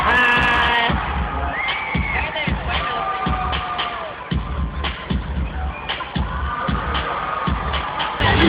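A live audience cheers and whoops loudly, with scattered claps and shouting voices packed together throughout.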